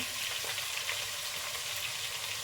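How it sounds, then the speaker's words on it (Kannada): Ginger and garlic fry in well-heated oil with a continuous bright sizzle and crackle, steady and close, with no voices over it. "ಆಯಿಲ್ ಚೆನ್ನಾಗಿ ಬಿಸಿಯಾಗಿದೆ. ಶುಂಠಿ ಫಸ್ಟು, ಹಾಗೆ ಬೆಳ್ಳುಳ್ಳಿ."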